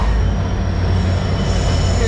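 A train rumbles steadily close by as it arrives at a station in Sri Lanka, a heavy low mechanical drone with faint high metallic squeal, no talking.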